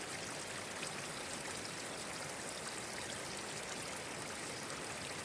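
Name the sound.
water flowing down over rocks on a mountain trail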